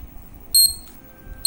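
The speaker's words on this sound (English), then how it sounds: "we will test the buzzer" Electronic buzzer in a basic DIY home-supply circuit sounds two sharp, loud tonal beeps, the first lasting about a tenth of a second and the second starting near the end, over a quiet room hum.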